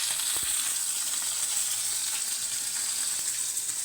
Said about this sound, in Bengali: মাছটা একটু হালকা আর একটু ভেজে নিয়ে নামিয়ে ফেলবো